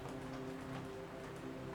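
Steady rainfall patters down, a soft, continuous wash of drops heard alone at low level without any voices.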